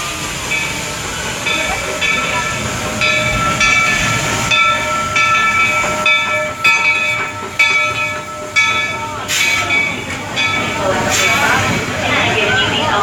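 A small park train rumbles in with hissing steam and a sustained whistle-like tone, clanking rising as it draws near, with faint voices in the background.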